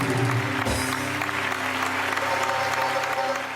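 Applause for a band on a Pakistani television game show, a dense, steady wash of clapping from the studio audience lasting a few seconds, with music tones still lingering underneath.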